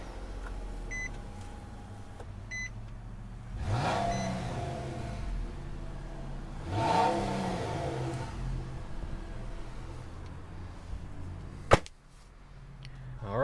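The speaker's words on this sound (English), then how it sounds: "the engine is warm enough for me to rev it" A warm 2021 Nissan Maxima 40th Anniversary engine revs twice from inside the cabin, two swelling blips a few seconds apart over a steady idle, with a few electronic beeps early and a sharp click near the end.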